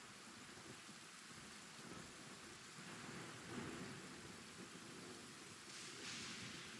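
Steady rain falls outdoors, a dense even hiss, while low thunder rumbles beneath it and swells briefly in the middle.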